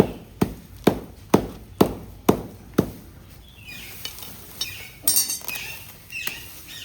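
Roots of a root-bound Erica palm being cut during repotting: six sharp, evenly spaced chopping strikes ring out loudly, followed by softer rustling, scraping and handling noises.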